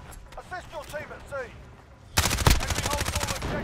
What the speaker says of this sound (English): I'm about to shoot him.